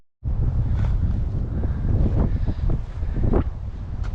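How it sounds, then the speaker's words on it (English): Strong gusty wind buffeting the microphone on a disc golf course, a loud continuous rumbling roar with surging gusts, no talking. "We got a right to left wind"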